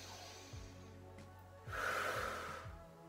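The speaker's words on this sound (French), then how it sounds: "on souffle par la bouche" One forceful exhale through the mouth during an exercise workout, a breathy rush of air that swells and fades, with soft rhythmic music underneath.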